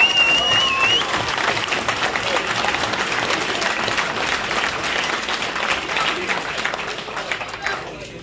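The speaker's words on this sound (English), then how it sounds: "big round of applause for these two, please" Crowd applause for two boxers after an amateur fight, a loud, dense burst of clapping and cheering that holds steady and slowly fades toward the end, with voices mixed in.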